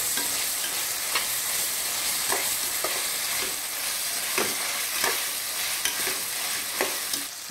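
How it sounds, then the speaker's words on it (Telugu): Vegetables with ginger garlic paste frying in hot oil, a steady bright sizzle with repeated stirring scrapes in the pan, close and fairly loud throughout. "1 మినిట్ ఇలాగా మనం ఇది ఫ్రై చేసుకోవాలి వెజిటేబుల్స్ అన్నీ ఆయిల్లో."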